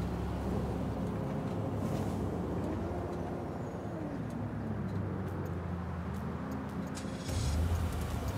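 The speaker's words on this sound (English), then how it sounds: "Now let's take out the car as well." A car engine drones steadily as the vehicle is driven off a tow truck in the FiveM video game, a continuous loud motor rumble that swells near the end.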